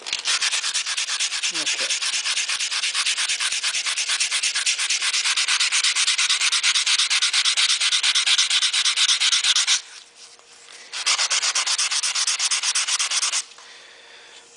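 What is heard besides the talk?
hand sanding stainless steel car trim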